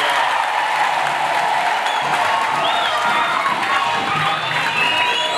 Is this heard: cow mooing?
no